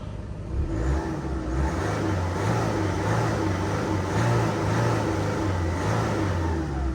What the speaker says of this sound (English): Again, we'll go blip the throttle